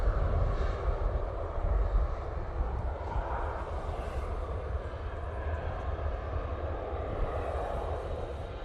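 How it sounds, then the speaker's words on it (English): Ryanair airliner touching down at Manchester Airport, a loud, steady jet roar with deep low-frequency rumble holding throughout, no voices. "I'm going to try if I can get this Ryanair touching down"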